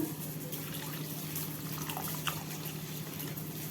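Tamarind water mixed with salt is poured into a masala, making a faint, continuous liquid trickle over a steady background hum, with no talk.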